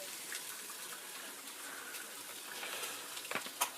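Cold water runs from a kitchen tap over cooked macaroni for homemade mac and cheese, a steady close gush with a few sharp clinks near the end.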